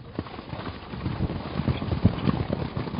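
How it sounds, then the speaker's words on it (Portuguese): A horse on its first gallop sounds its hooves in a rhythmic clip-clop of thudding beats that grows slightly louder over time, with light wind noise and no voices. "O cavalo, no primeiro galope dele,"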